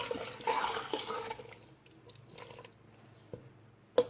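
Two cups of water go into a cooking pot of achar gosht with salt and spices, a soft splashing pour at first that fades into quiet trickles, with a few small knocks against the pot.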